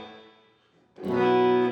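Electric guitar played clean, with no pedal and no drive, through a 1955 Magnatone amp with reverb: a chord rings and fades, then a loud new strum swells and sustains with a lush reverb tail.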